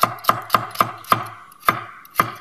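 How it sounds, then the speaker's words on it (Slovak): A knife cuts peeled carrot into thin slices on a board: seven crisp, evenly spaced chops, close and fairly loud, with no voices. "Na prílohu budeme potrebovať očistenú mrkvu, ktorú si nakrájame na menšie kúsky."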